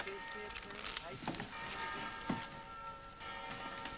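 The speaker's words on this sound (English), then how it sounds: "Those cathedral bells." Cathedral bells ring in New Orleans' French Quarter: faint, steady tolling tones sustained beneath a quieter scene with some voices.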